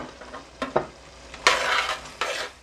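Pumpkin soup with corn pieces and cubed carrots bubbling in a pot, with quiet simmering broken by a few spoon knocks and louder stirring scrapes and splashes.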